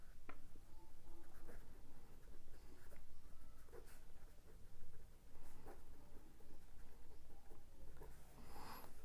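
Pen scratching across paper while writing out a trigonometry solution, a close, continuous scratchy stroke pattern with brief pauses between words.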